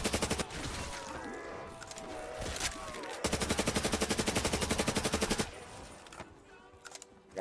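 Rapid automatic gunfire from Black Ops 3 Custom Zombies on the Sky map, with bursts early on and then a long, sustained stream of evenly spaced shots that cuts off, followed by a few scattered game sounds.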